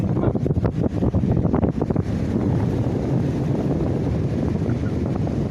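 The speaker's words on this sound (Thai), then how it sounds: "วันนี้ขึ้นลมกลาง" Steady wind blows hard at the seashore where people fish in the evening, a loud continuous rushing buffet over the microphone, with rougher gusty bursts early on before settling into an even roar.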